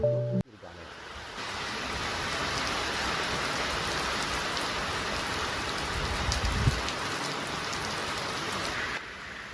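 Steady, dense rainfall hisses continuously on a surface, a constant wash of drops with no voices, staying even in loudness throughout.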